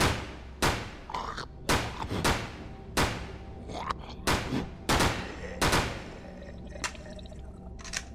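Single gunshots in the survival horror game Remorse: The List, set in a hospital, fired one at a time as sharp, spaced cracks roughly every second with echoing tails.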